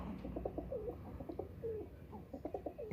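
A Teddy pigeon coos in soft, repeated rolling calls, close and moderately quiet over a low background rumble, with no voices.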